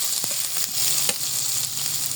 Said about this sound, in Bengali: পেঁয়াজটা একটু লাল লাল করে নেব একদম